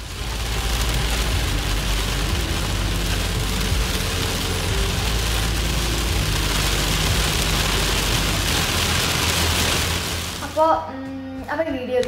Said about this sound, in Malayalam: ഓ മഴ മഴ, ഭയങ്കര മഴയാണ്, മുടിഞ്ഞ മഴയാണ്